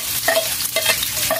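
Onion sizzling in hot oil in a pan of ginger, with a few utensil scrapes and stirring strokes over a steady frying hiss, close and moderately loud.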